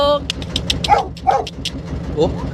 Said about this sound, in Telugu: ప్రతి ఇంటికి కుక్క ఉందండి ఇక్కడ అగ్రెసివ్గా ఉంది